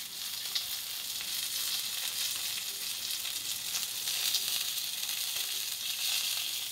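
Chicken frying in a pan of hot oil, a dense, even sizzle that stays steady and close throughout with no talking.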